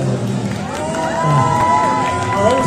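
A crowd at a lively event in Korea cheers and shouts steadily and fairly loudly, with excited voices and a few people talking over the noise.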